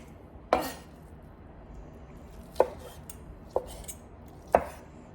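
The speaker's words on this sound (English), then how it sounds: "You can slice them into these little pieces, and then you can make them even, cut them in half" A knife slicing food into small pieces on a cutting board, four sharp, separate chops spaced a second or two apart, close and crisp against a quiet room.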